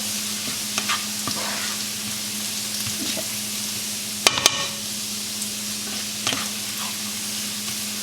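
Chicken pieces fry in a very hot pan for Indo-Chinese chili chicken, a steady even sizzle with a low hum underneath, a few soft taps and one sharp metallic clatter midway.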